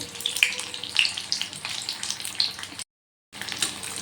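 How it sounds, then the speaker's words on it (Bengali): Stuffed pumpkin flower fritters fry in hot oil with a steady, close crackling sizzle and bursts of spatter, cut by a brief silent gap. "এবার এগুলো আমি লাল লাল করে ভেজে তুলে নেব।"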